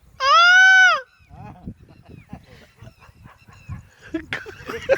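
A person mimics the call of an Asian koel with a single loud, rising-and-falling whistled cry about a second long, followed by quieter background murmurs, rustles and scattered noises.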